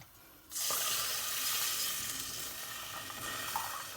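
Milk pours into caramelized sugar in a pan for semolina halva, setting off a sudden loud, steady sizzle and bubbling hiss that runs continuously after a quiet start, with no talking.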